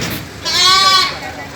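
One of ten goats being handed over to a university livestock program lets out a single loud, wavering bleat up close, with background chatter around it.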